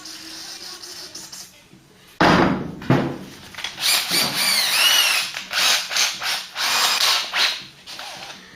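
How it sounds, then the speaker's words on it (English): A power drill with a hole cutter grinds through a Ford Cortina Mk3 car's sheet metal panel in several uneven pulses, pitch rising and falling as the cutter bites, loud and close, with a clunk near the start. "drill out for that. Nice and slow with these hole cutters"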